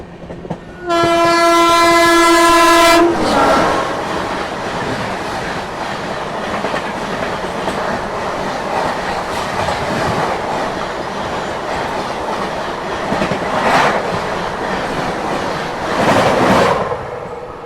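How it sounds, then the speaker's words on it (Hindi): The Bangalore Rajdhani Express approaches near Hyderabad with a loud, sustained horn blast. A long, heavy passing rumble follows, with rhythmic clickety-clack of wheels over rail joints, heard close by. "सामने से आ रही है बैंगलोर राजधानी एक्सप्रेस।"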